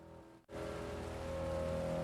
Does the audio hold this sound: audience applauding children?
no